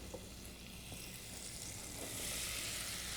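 Butter and flour sizzling in a sauté pan as a roux cooks, a soft, steady frying hiss that swells slightly toward the end, faint and without talk.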